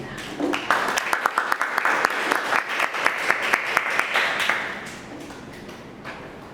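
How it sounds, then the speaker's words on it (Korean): Audience at a business forum on generative AI greets a speaker with applause, a few near distinct claps rising into steady clapping that fades gradually toward the end. "여러분 큰 박수로 모시겠습니다"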